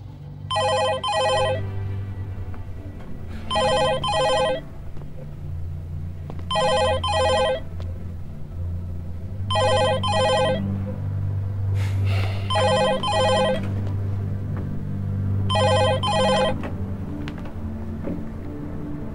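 A telephone bell rings in six evenly spaced double bursts, loud and close, over a low rumbling background with no one talking.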